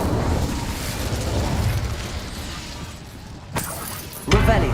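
Incendio fire spell cast in Hogwarts Legacy, a roaring burst of flame over a dense, rumbling combat bed, with a sharp crackling flare near the end.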